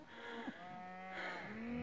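Cattle moo in a paddock while cows with bull calves are gathered for weaning, two drawn-out lowing calls at moderate distance against quiet outdoor ambience, no talking.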